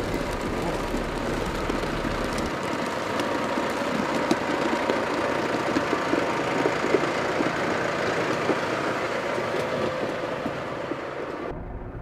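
A Case IH Quadtrac 620 tractor pulls away as the clutch is released, giving a steady, close diesel rumble with faint clatter. Voices can be heard under the engine until it drops off abruptly at the end.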